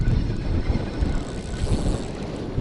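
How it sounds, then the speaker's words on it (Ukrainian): Wind buffets the microphone at a fishing spot on open water, a steady low rumble with gusty swells and a faint wash of waves throughout, no voices. "Григорович, ви бачите, який вітер?"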